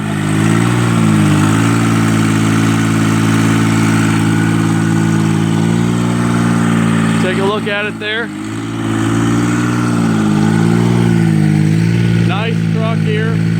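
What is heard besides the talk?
pony motor running on forestry bucket truck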